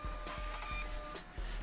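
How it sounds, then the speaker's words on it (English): A rugged Zebra thermal printer runs off a packing label at six inches per second, giving a quiet steady whir broken by a series of short ticking pulses, heard alone. "Print a packing label at 6 inches per second using Zebra's rugged thermal printer."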